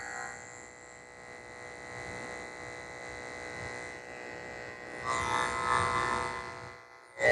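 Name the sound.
electric clippers with a 30 blade shaving a Yorkie's feet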